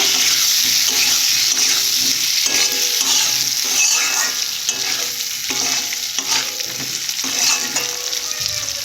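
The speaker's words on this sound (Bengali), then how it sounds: "এরপর আলুগুলো দেবো ভালো করে মেখে নিয়ে ভেজে নেব" Potatoes frying in a pan and being stirred, with loud continuous sizzling and repeated scraping strokes of the spoon against the pan in a fairly regular rhythm, close and without talk.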